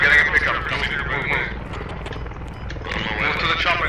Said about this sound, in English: Move to the chopper, northeast.